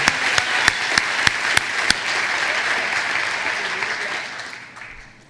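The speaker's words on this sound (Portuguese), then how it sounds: "Uma salva de palmas à palavra de Deus." A church congregation applauds in a dense, sustained round of clapping, with several sharp, louder claps standing out near the start before the applause gradually thins and fades.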